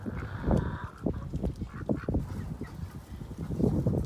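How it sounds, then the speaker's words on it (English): Ducks and geese on water outside a farmyard barn at dusk give repeated honking quacks, close and fairly loud in an irregular chorus. "The ducks are probably gonna stay out here and swim for the next 2 hours while it's dark."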